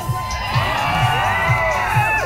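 A crowd cheering and whooping loudly at an Independence Day Freedom Ride gathering in Nipani, with many overlapping voices and rhythmic shouts up close.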